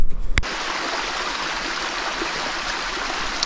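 Steady rushing water, like a nearby stream or small waterfall, flows continuously after a brief knock at the start.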